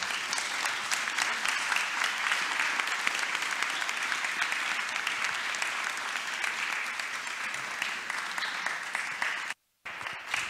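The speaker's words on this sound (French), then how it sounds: "Je vous propose qu'on applaudisse Lola et les traducteurs pour cette belle soirée" An audience at an evening talk on international relations and climate applauds in a dense, sustained burst that runs evenly for about ten seconds, with a brief dropout near the end.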